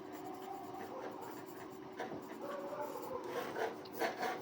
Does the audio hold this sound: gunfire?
no